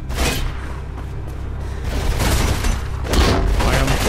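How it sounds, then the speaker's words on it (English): Gunfire in the video game Mirror's Edge: loud, dense bursts of shots and booming impacts, with heavier volleys building around the middle and a strong burst near the end. "I am under serious fire here"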